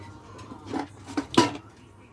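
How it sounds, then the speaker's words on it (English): Metal baking tin being pried open in a kitchen, with a few clanking, scraping knocks and one sharper clunk near the end, close and fairly quiet. "I'm struggling to get my tin open now."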